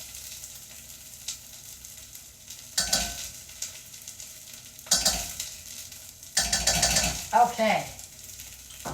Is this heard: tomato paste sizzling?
yes